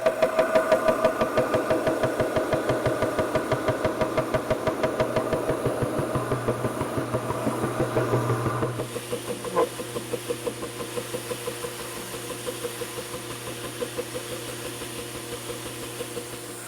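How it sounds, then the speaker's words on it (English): A woodworking edge sander runs steadily and loud, its motor drone humming with a rapid pulsing texture, then easing to a lower, quieter hum partway through while it keeps running alone. "But now let's go over to the edge sander"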